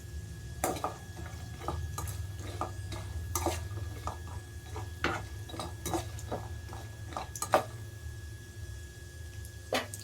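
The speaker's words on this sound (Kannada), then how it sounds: "ಇವಾಗ ಸಾಸಿವೆ ಹಾಕೋಬೇಕು" A pan on a home kitchen stove for a festival dish, with sharp metallic clinks and scraping strokes at irregular intervals over a low steady hum, close and fairly quiet, with no talk.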